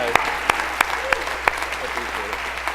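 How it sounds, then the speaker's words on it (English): An audience at a global youth town hall gives a round of applause, steady clapping with a few sharper individual claps standing out, loud and close, a voice faintly audible underneath. "just a round of applause"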